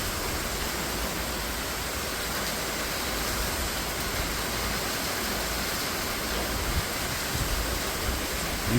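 Steady tropical rain falls hard and close, a thick unbroken hiss like rushing water that stays level throughout, with no speech.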